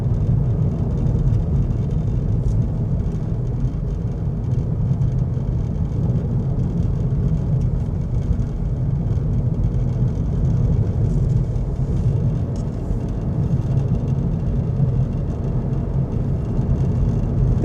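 Inside a car driving west along 5 Mile Road in Michigan near Detroit, a steady, loud low rumble of engine and road noise with constant tire whir and no voices.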